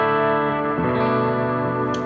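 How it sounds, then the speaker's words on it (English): An electric guitar played through a worship pedalboard with light reverb sustains a rich chord, which is then restruck and rings on with a lush, washy tail, loud and close. "here's like a light reverb that I'll use."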